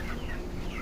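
Many broiler chickens near two kilograms cluck and murmur together inside a chicken farm, a dense steady brief chorus close by with no talk.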